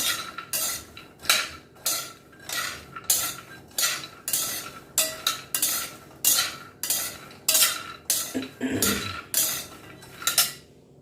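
Seeds and ingredients, pumpkin seeds among them, roasting in a little ghee in a pan while a metal spoon stirs and scrapes in a steady rhythm of repeated clinks, close and clear, with no talking.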